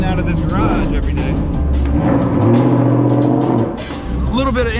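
A Mustang's engine revs and accelerates up close, pitch climbing through gear changes, with a brief dip before pulling hard again.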